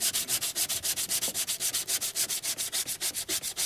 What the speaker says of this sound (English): let me get sanding